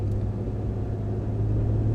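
A 5.7 Hemi truck engine held at stall before launch gives a steady, deep, close rumble with a constant low hum and no voices.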